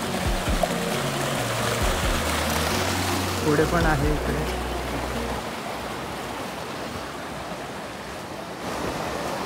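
A waterfall on the Garbett Plateau trek near Bhivpuri, in alternating sun and rain, gives a steady, broad rush of falling water close by, with people talking over it.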